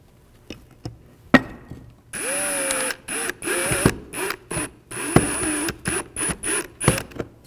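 A Ryobi power drill drives a screw into wood in a series of short whirring bursts with brief pauses between, close by, preceded by a few light clicks and taps.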